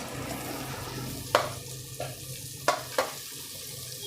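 Pork frying with onions in a pan, a low, steady sizzle close by, punctuated by a few sharp scraping knocks of a utensil as the meat is turned.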